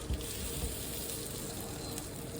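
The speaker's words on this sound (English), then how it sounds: "Get the butter nice and melted, and then we're going to get the asparagus straight into the pan" Asparagus frying in melted butter in a pan, a steady, soft sizzle with a continuous hiss that stays even throughout, a couple of faint low bumps early on, and no talking.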